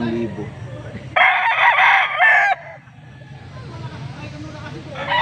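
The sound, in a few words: rooster crowing, bullstag fighting cock at market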